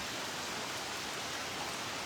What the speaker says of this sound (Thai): แต่ท่านก็จะได้แต่ได้ยินเสียงฝน